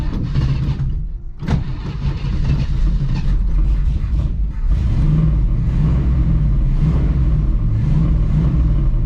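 A big-block V8 swapped into a 3000GT, cranked briefly then firing up into a loud, steady rumbling idle with a deep, uneven throb, very close and continuous.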